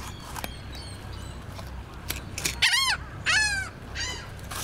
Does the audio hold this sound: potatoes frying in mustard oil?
no